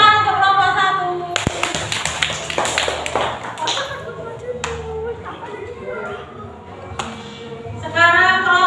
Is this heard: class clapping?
yes